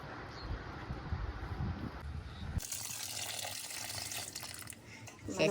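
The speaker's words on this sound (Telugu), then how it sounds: "శుభ్రంగా దీన్ని వాటర్లో వేసి శుభ్రం చేసుకోవాలి" Tap water runs and splashes as crab pieces are washed in a kitchen sink, a steady watery rush that turns brighter and louder partway through, with some faint voice in the background.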